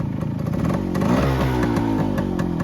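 A Suzuki K125 motorcycle engine idles close by with an even, steady mechanical putter and a slight rise in pitch midway, with no talking.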